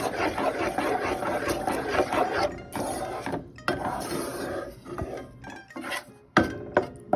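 A spoon stirs jaggery into jackfruit payasam in a pot, making irregular scraping and clinking against the metal with short pauses between strokes, close and moderately loud.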